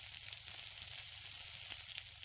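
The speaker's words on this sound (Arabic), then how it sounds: "صافي دابا الدجاج كيطيب ليه" Chicken frying in a pan with oil, garlic and spices gives off a steady close sizzle, constant and fairly quiet, with no voices over it.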